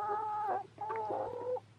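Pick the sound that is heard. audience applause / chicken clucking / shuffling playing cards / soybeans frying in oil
chicken clucking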